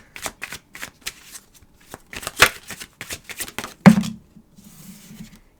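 Tarot cards being shuffled in quick bursts of riffling and flicking, with brief pauses and a sharper snap near the end, close to the microphone.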